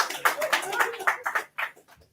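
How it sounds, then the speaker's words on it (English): A handful of uneven hand claps ring out at a digital wealth summit, a short, fairly faint burst of scattered applause that quickly tapers off. "A round of applause"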